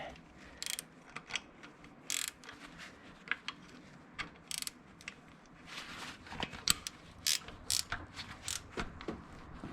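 A ratchet tightens bolts on an 85 Camaro intake manifold, with faint, irregular clicks and short metallic bursts close by in a quiet garage.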